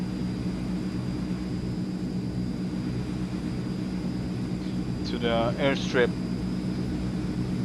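Steady drone of a Transall C160 cargo plane's engines in Microsoft Flight Simulator holds as a continuous low roar throughout, with a person talking briefly over it near the end.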